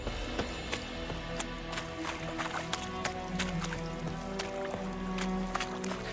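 Horse hooves clip-clop steadily in The Witcher 3, a repeated trotting beat over a constant low ambient hum, moderately close and clear.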